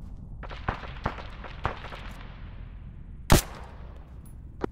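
Video game gunfire from a BTR vehicle during a convoy ambush: scattered distant cracks and thumps over a steady rumbling background, with one much louder close shot near the middle.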